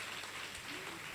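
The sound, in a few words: applause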